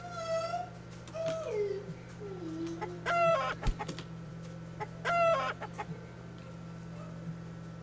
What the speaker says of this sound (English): She's got no place to put this chicken.